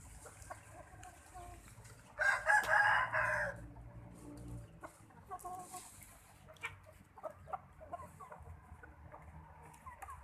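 A rooster crows loudly once, close by, followed by scattered clucking and softer farmyard noises at a chicken coop flooded after heavy rain.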